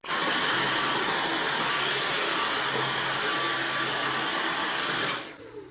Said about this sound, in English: so we are going to vacuum it.